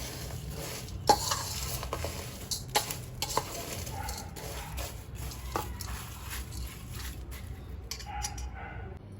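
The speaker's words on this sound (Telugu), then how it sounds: "అన్నీ అటుకులకి పట్టేలాగా ఈ మసాలాలన్నీ కలుపుకోవాలి." Spices being stirred into a flattened rice (poha) snack mixture in a pan, with soft scraping and scattered clinks of the spoon against the metal over a low, steady background.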